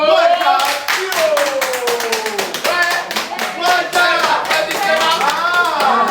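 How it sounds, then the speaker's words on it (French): A small group claps in quick, distinct strokes during a contest vote announcement for Togo, close and fairly loud, while a voice talks over the clapping. "Les applaudissements."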